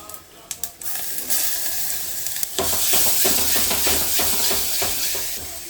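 Chillies and curry leaves hit hot oil with a few sharp crackles, then a loud, continuous sizzle full of popping and spitting that fades slightly at the end.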